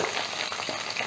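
Green brinjal goes into hot oil for a methi sabzi, giving a dense, even hiss of frying that holds steady through the brief moment.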